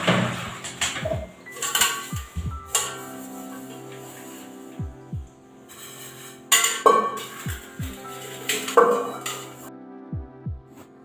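Pots and utensils being washed by hand during a power cut on a rainy day, with scattered clinks and clatters of dishes knocking together, close and intermittent, over running water and a low background hum.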